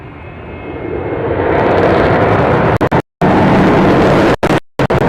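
Avro Vulcan bomber making a low flypast with undercarriage down: a loud, swelling jet engine roar that builds over a couple of seconds and stays intense, with brief dropouts in the signal, no talking.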